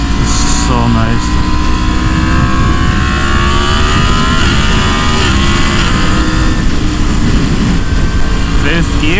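A Yamaha MT-10 motorcycle with a freshly flashed ECU accelerates hard through its gears, a loud continuous engine roar with rising pitch sweeps and shifts, heard up close while riding with wind noise.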